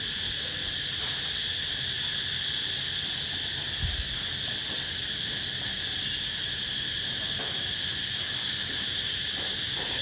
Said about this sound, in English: Those are the insects making those noises.